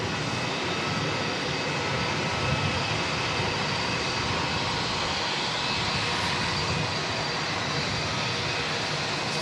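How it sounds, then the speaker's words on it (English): A Jetstar Airbus A321 jet at Auckland Airport, a steady broadband engine roar heard from a distance, sustained and even throughout with no talking. "I think we'll go grab this other Jetstar A321 heading back to Sydney."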